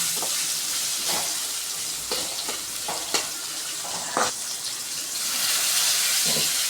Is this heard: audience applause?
no